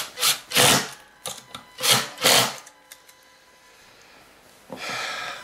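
Several short scraping and ratcheting bursts from tightening the adjuster on a Kirby Avalir vacuum transmission, close and loud, then a pause and a longer grinding stretch at the end.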